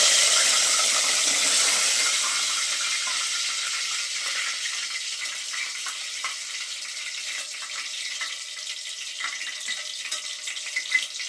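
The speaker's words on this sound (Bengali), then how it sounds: "এবার আমি তেজপাতা দেব।" Bay leaves dropped into hot oil for mutton keema give a steady, bright frying hiss that eases slightly over time, with small scattered crackles and no talking.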